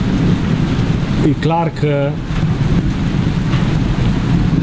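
Rain and wind from an approaching thunderstorm in the countryside roar as a steady, loud wash of noise, while someone briefly talks over it.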